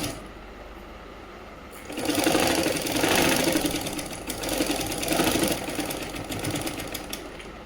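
A sewing machine stitches a patiala salwar, starting after a quiet moment and running in loud, close bursts of rapid mechanical chatter with brief slowdowns between runs.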